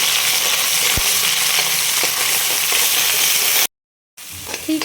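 Onion paste and cumin frying in hot oil for a masoor dal, a steady close sizzle with light stirring and a sharp clink, cut by a brief silent gap near the end.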